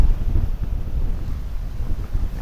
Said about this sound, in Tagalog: Grabe lang yung hangin.